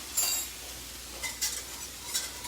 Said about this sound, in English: we're going to whisk that flour to fully incorporate it